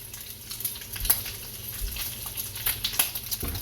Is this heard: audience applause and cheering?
no